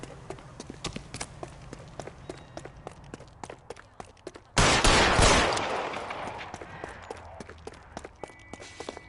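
Gunfire in the L.A. Noire video game: a string of sharp shots crack out one after another, then a loud burst erupts midway and slowly rings away into quieter footsteps.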